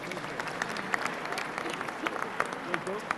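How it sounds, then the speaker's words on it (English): An audience applauds at an evening event at the National Museum of the American Indian with soft, fairly distant clapping and a few sharper claps standing out, under a faint crowd murmur. "Let's give them a round of applause"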